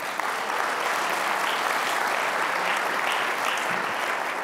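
Sustained applause from a conference audience at a European advertising technology summit, steady and dense throughout with no speech over it.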